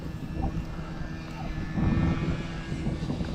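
An inexpensive SJRC Pro drone in flight gives a steady, continuous whirring engine-like drone throughout, fairly loud and unbroken, with no voices.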